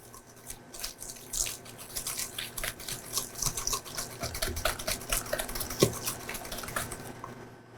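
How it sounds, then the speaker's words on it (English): A whisk scrapes and ticks steadily against a bowl while eggs and sugar are beaten into a paste for crème anglaise, a quiet, close, irregular clatter without talk. "I'm going to whisk this to a paste."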